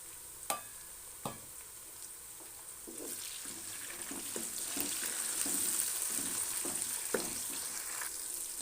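Tomatoes tossed into a hot pan while cooking dal chawal set off a soft, steady sizzle that gradually swells, with a few sharp clinks of a spoon stirring against the pan.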